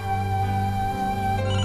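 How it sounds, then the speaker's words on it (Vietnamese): A telephone rings indoors, a steady electronic ringtone with sustained tones, close and fairly loud, with no talking. "Thôi, em có điện thoại rồi, em vô nghe đây"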